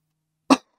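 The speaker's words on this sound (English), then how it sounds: "sorry if I cough." A single short, sharp human cough, close and fairly loud, bursting out of silence and fading quickly.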